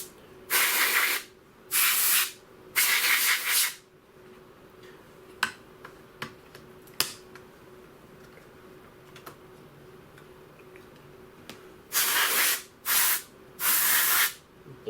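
Canned air sprays in short, loud hissing bursts onto a Samsung 50-inch plasma TV board, three blasts at the start and three near the end, with faint clicks and taps in between.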